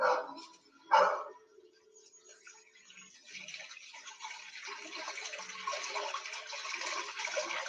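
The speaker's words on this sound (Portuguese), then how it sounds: "que muita gente acha que é vazamento da Sabesp, que é posto de gasolina, é nosso querido Rio Corujas" A steady wash of flowing water from an urban river, the Rio Corujas in São Paulo, builds and persists, with a dog barking twice at the start; no one speaks.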